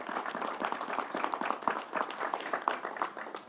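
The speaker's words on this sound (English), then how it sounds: "Let's give the whole team at the State Fair and the National Guard a round of applause." An audience applauds the State Fair team and National Guard at a public event in Syracuse, a steady crackle of many hands clapping for several seconds at moderate volume with no talk over it.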